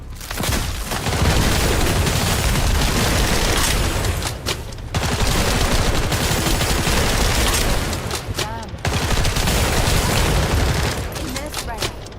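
Sustained bursts of rapid gunfire in The First Descendant, a video game, dense and loud with short breaks between volleys, while a voice talks underneath.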